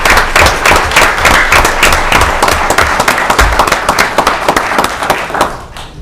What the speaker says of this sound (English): Could we give a round of applause for their efforts today?